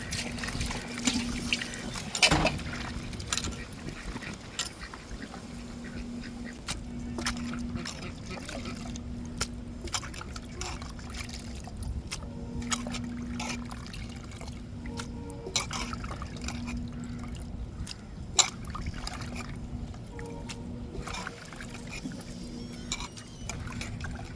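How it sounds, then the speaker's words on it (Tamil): Cut squid being rinsed by hand in water, with continuous splashing, trickling and dripping close by and a person talking over it. "இப்போ நல்லா கழுவி எடுத்துருவோங்க"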